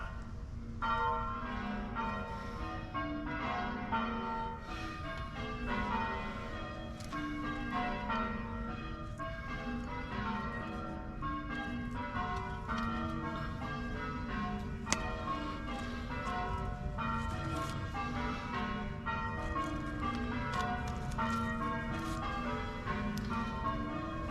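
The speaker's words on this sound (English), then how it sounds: "The bells! The bells are tolling." Church bells ring a peal heard outdoors at night during a sleep-out, a continuous, overlapping stream of rhythmic strikes sustained throughout, moderately distant and steady, with wind-like background noise.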